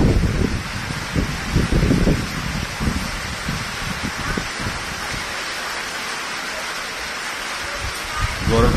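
Heavy rain falls in Abohar as a constant broadband hiss, with gusty low buffeting near the microphone in the first half, then a smoother steady wash.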